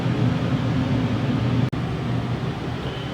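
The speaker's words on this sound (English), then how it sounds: "that air conditioner is not going to get in your way" A rooftop air conditioner on a 2020 Grand Design Reflection 300RBTS RV runs with a steady, even broadband hum and whoosh, constant throughout apart from one momentary dropout.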